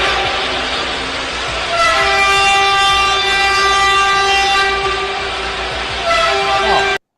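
Loud, sustained horn blasts sounding like a train horn hold steady chords for several seconds, starting softer and swelling, then cutting off abruptly.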